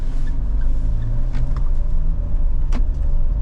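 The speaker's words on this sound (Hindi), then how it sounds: "देखते हैं गाड़ी 0 to 100 कितने में चली जाती है।" A 2024 Mahindra Thar Roxx SUV with an automatic gearbox accelerating from 0 to 100 on a city road, its engine giving a steady loud low rumble with faint passing clicks and no talk.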